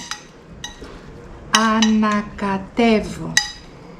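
A Greek salad is stirred in a bowl, giving scattered light clinks and taps of cutlery on the dish, interrupted by stretches of a person talking.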